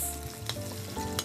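Onion and garlic sautéing in oil in a pan, a steady close sizzle with a couple of quick stirring scrapes, brief and without voices.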